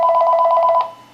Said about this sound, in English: we're going to stop the camera because my phone is ringing.